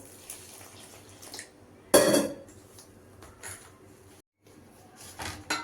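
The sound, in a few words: kneading maida flour dough while adding water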